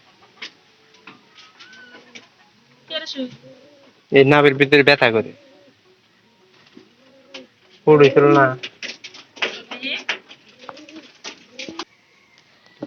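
Pigeons coo in a deep, throaty, rolling voice, two loud bursts close by among scattered shorter calls, while someone talks over them.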